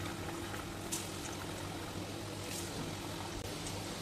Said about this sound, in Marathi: त्यामध्ये एक एक करून आपल्या कारल्याच्या फोडी ज्या आहेत सोडून देणार आहोत